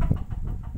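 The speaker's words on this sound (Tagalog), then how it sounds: "Ayan po yung mga manok." Chickens in a yard give a few short, soft clucks in a brief burst, with faint wind in the background.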